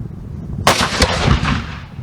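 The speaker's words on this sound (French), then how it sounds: "On a pu assister au tir de canon." A single loud cannon blast booms out during a firing demonstration at a museum, followed by a rolling echo that slowly fades over a couple of seconds.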